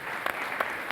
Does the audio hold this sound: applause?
yes